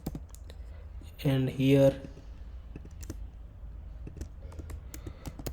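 Quick clicks from a computer keyboard come up close as HTML code is typed, a steady clatter running through the clip, with a short spoken phrase near the start.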